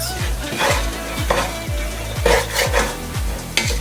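A utensil scrapes and stirs cauliflower with curry powder in a pan, with repeated rhythmic scraping strokes over a steady sizzle, close and fairly loud.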